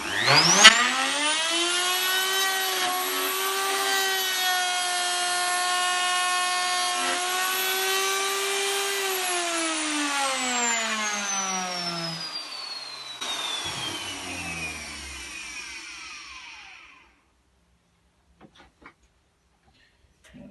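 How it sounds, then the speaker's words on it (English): A power router trimming the jigsaw-cut corners of wooden moulding during a narrowboat fit-out, a loud steady high whine held for about ten seconds before winding down and fading to silence. "just to router out the corners where I've cut off with the jigsaw"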